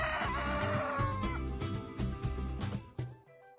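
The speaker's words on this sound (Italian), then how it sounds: "Quindi il canto del gallo." A rooster crows in a long, loud, harmonic call that carries near and clear, with a few shorter bursts trailing off toward the end.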